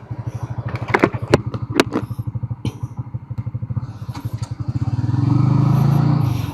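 A motorcycle engine idles in the morning with a steady, close, loud putter. Its revs swell into a louder, smoother drone toward the end, and a few sharp clicks sound over it.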